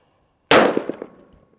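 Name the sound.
50 caliber rifle shot hitting a ballistic helmet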